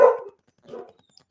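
Two barks from a dog, fairly close, the first louder and the second softer, separated by a short pause.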